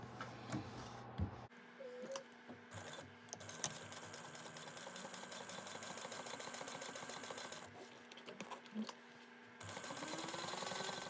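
A sewing machine top stitches fabric at an eighth of an inch on a fold-over bag, giving a quiet, steady mechanical whir that starts and stops in short runs.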